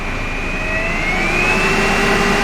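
A roof fan in a Transit ambulance converted to a camper van runs over the idling engine, a loud steady roar with a rising whine, continuous and close.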